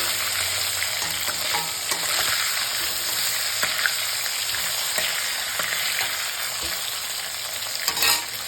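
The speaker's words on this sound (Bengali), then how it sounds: "মাছটা ভাজা হচ্ছে।" Fish frying in a pan gives a steady, dense sizzle and crackle that runs throughout, close and fairly loud, with occasional pops and utensil taps and no talk.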